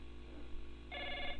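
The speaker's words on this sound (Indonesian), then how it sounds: "Ya, kita mau tersambung dengan telepon dulu." A telephone line ringing as a call connects on a call-in program, a short bright ring tone starting partway through over a faint steady hum.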